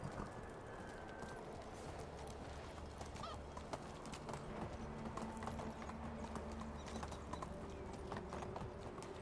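Horse hooves clip-clop steadily through a medieval village in a video game, a continuous rhythmic trot over low ambient hum and faint bird calls.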